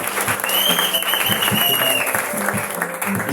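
A church congregation applauds to acclaim the Lord, with steady, dense clapping that fills the whole moment and a murmur of voices mixed in.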